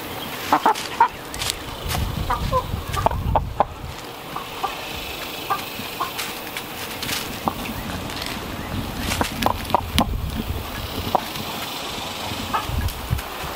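Chickens clucking while pecking at a bowl of wax worms, scattered clucks and sharp pecking taps close by, with occasional rustling and a brief voice in the background.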